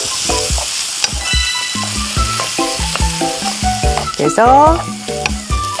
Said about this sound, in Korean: 불은 너무 세지 않은 상태로 중간불 정도에서 고르게 볶아주세요